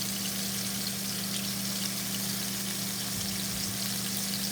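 Shrimp burgers fry in a pan with a steady, even hiss close by. The sizzle runs without a break and no one speaks.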